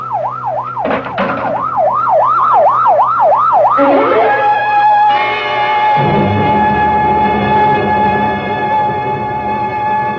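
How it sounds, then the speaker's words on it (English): An ambulance siren wails in a radio drama sound effect, a rapid rising-and-falling tone that sweeps in loud and close, then gives way to engine rumble and a steady horn-like tone as the vehicle arrives. "better get that ambulance out here fast"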